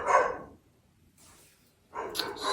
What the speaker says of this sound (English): he's barking like that, like a semi bark